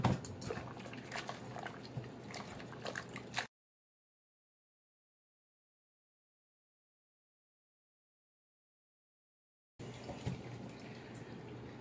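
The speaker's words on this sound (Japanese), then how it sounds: "これは一回水洗いします" Running tap water splashes over a raw octopus being rinsed in a sink to wash off its slime, a steady close stream in two stretches separated by a long silent gap.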